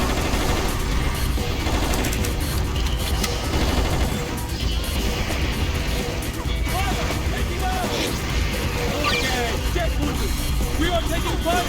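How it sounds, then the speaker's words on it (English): Gunfire and booms in the Just Cause 1 video game during a street battle with tanks: a dense, loud, continuous barrage of rapid shots and crashing blasts fills the whole stretch without pause. "I don't like the sound of those booms behind me."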